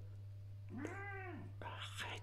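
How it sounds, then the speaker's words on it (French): A white cat called Jojoy gives one drawn-out rising and falling meow, then a second shorter meow begins, close and fairly quiet over a steady low electrical hum. "Arrête de miauler toujours, arrête de miauler."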